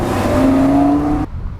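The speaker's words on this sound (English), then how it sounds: "That's a Corvette Stingray right there" A Corvette Stingray drives past up close, a loud engine roar with a steady tonal drone that cuts off sharply after about a second and a quarter.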